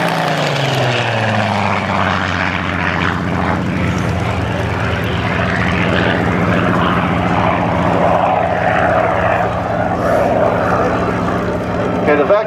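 A Spitfire Mk XVIII makes a high-speed pass at over 400 miles an hour, its propeller engine a loud, steady roar that holds for the whole stretch, with a voice talking faintly underneath.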